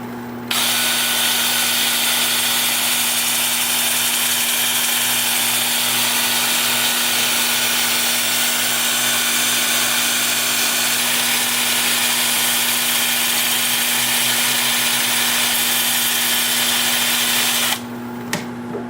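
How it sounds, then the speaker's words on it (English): Wood on a lathe turning in reverse at 350 RPM is sanded with a 2-inch 80-grit disc on a power drill, giving a loud, steady whirring hum and abrasive hiss that runs unbroken for about seventeen seconds before cutting off. "I'm going to be sanding with my 2-inch disc at 80 grit."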